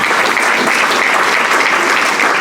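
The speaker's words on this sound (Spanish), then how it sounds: "Regálele un aplauso al Señor." A church congregation at a Sunday service claps steadily and densely, a continuous close wash of applause with no pauses or speech.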